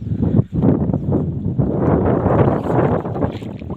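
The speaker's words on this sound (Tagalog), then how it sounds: "Hangin dito sa amin." Steady, rushing wind buffets the microphone beside a floating house on a river, a loud continuous roar with gusty swells and no voices.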